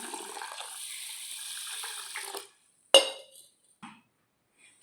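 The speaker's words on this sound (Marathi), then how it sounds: "मी या तांदळामध्ये आपल्याला पाणी ओतून घ्यायचं आहे" Water is poured into soaking rice for dosa batter, a steady splashing pour that stops, followed by a sharp clink of a vessel and a few small knocks, with no talking.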